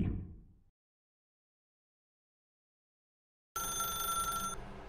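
A telephone rings inside The Stanley Parable video game, a sustained electronic ring with steady tonal bands that starts suddenly after a long silence and continues to the end, following a brief burst of sound at the start.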